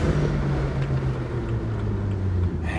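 Cabin drone of a modified BMW 1M engine while driving gently, a steady low hum with a slowly shifting pitch and a faint brief rustle near the end.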